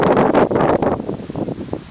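Outdoor wind buffets a microphone during a flight of a Star Wars TIE Fighter RC drone, loud low rumbling gusts that rise and fall over a couple of seconds.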